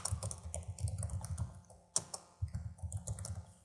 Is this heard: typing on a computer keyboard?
yes